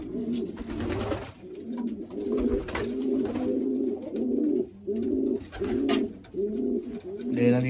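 Pigeons coo repeatedly in low, rhythmic bursts close by, with a few wing flutters and faint background noise.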